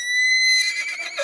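A horse neighs loudly and close, a shrill whinny with strong harmonic tones that breaks into a rougher, fluttering tail over about a second.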